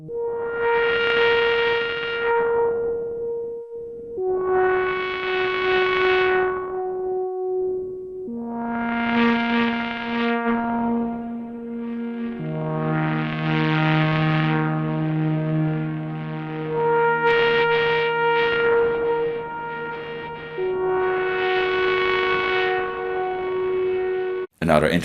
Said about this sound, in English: Here the distortion is still effectively used as a complex wave shaper, adding a lot of detail to the voice.